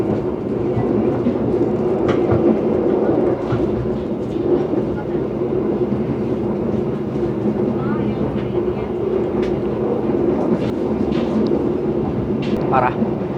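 Steady low rumble and rolling rail noise inside a moving Argo Wilis passenger train, a continuous loud drone with faint clicks throughout.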